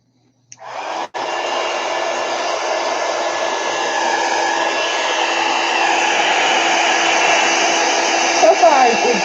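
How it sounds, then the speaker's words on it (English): A heat tool or hair dryer blows steadily over a wet painted mixed media page, a loud continuous whooshing hum that starts abruptly, cuts out briefly, then runs unbroken with some faint rustling near the end. "Let me dry this real quick."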